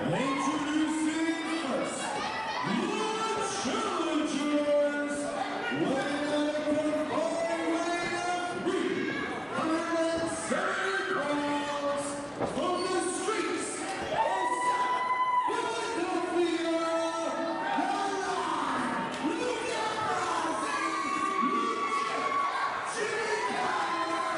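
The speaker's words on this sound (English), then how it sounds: "This crowd is going nuts for the challengers." A wrestling arena crowd roars and cheers steadily for the challengers, a dense continuous wall of shouting and whooping with voices layered over it throughout.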